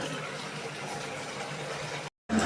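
A kitchen mixer grinder whirs steadily as it grinds black pepper, cumin, fennel and a little coconut, a constant motor drone that cuts off abruptly near the end.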